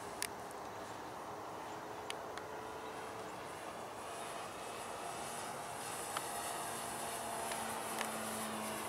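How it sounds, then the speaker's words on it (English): Hangar 9 P-47 model airplane in flight, a faint, steady engine whine at a distance with a slight rise in pitch near the end, under a few light clicks and no talk. "This is a treat to see this P-47. By Hangar 9."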